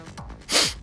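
A single sneeze bursts out loud and close after a moment of quieter breathy sounds, with no talking around it.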